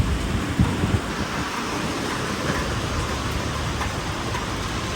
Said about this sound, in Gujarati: હવે વરસાદ આવ્યો